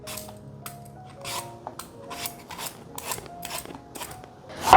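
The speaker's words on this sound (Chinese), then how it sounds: "把苹果削皮" A knife peels the skin off half an apple in a home kitchen, giving a close, quiet series of short scraping strokes in an uneven rhythm.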